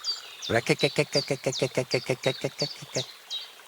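A human voice imitating a toad croaking in the game Kingdom Come Deliverance 2: a rapid run of about fifteen throaty, rhythmic croaks, loud and close, alone.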